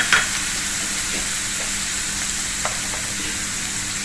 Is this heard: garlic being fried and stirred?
yes